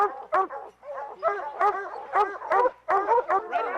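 Hunting dogs barking and yipping at a bear treed during a hunt, a close pack of excited overlapping barks and whines in rapid bursts.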